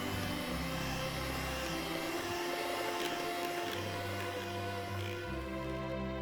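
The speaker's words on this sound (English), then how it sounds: "whisk it using an electric egg beater or hand mixer" An electric egg beater or hand mixer whisking softened unsalted butter in a bowl, a steady loud motor whine with a droning hum that holds for the whole clip.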